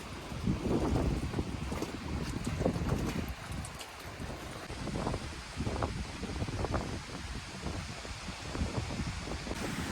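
Strong wind buffets and rumbles in uneven gusts, roaring loudly at times, with no voices.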